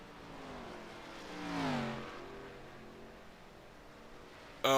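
An ARCA race car engine in the iRacing sim at Nashville drones faintly, its pitch rising and falling through a turn with a brief swell, before a sharp loud burst at the very end.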